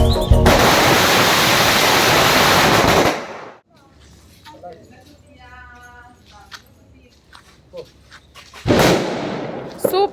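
Diwali firecrackers burst in a long, dense, loud crackling volley for about three seconds, then scattered pops and voices in the quieter gap before another loud burst at the end.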